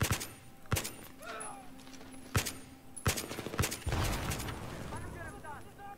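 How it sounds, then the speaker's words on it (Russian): Sharp, separate gunshots ring out in a Battlefield 3 battle, a handful of loud cracks spaced irregularly, then a denser rumble of fire near the end, with people talking in between. "Дровяка, что ли, стреляет?"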